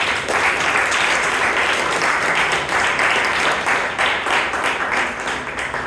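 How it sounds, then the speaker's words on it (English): Sustained applause from a Toastmasters club meeting audience, steady and dense clapping throughout with a slight swell near the middle. "Please give Surya Prakash a big round of applause."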